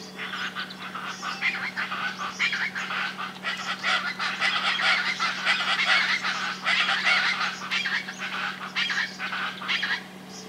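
Chaco chachalaca (charata) calling in Córdoba, Argentina: a loud, continuous chorus of raucous, honking cries that carries on without a break, set against a steady low hum.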